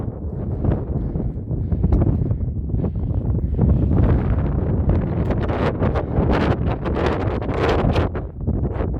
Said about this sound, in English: It's a little windy up here, but it's not too bad.